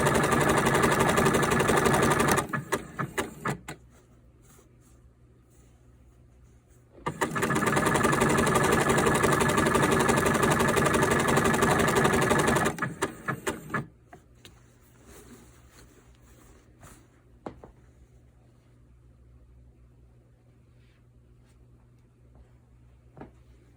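A sewing machine stitches sweatshirt fabric sleeves in two long, steady, loud runs, with quiet handling sounds and brief stops between them and a soft hum afterward.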